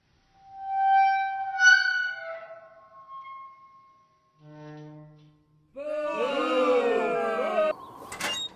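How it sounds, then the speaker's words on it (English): The door of a snowcat in the horror film Blood Predator opening with a classic creaking gate effect, a drawn-out rising squeal heard alone and followed by a sharp metallic clack near the end. "when he opens the door to the snowcat, it's, like, the quintessential gate sound effect"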